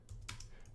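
Keys clack in a quick burst of several strokes on a computer keyboard as a Linux terminal command is entered, close and fairly quiet, with no talk.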